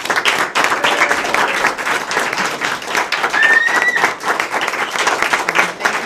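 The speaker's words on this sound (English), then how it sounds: "Everybody, please give her a round of applause" An audience gives a round of applause for a film project producer, a loud continuous patter of many hands clapping with some crowd noise mixed in throughout.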